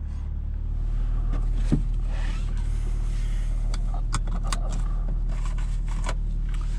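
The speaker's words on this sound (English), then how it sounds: "this 21 Supra has a quieter exhaust than the 2020 model for reasons unknown" A 2021 Toyota GR Supra 3.0 drives on a winding road in sport mode, its engine and fairly quiet exhaust giving a steady low drone heard from inside the car, with a few faint clicks and no talking.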